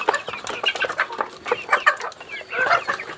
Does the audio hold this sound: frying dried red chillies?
no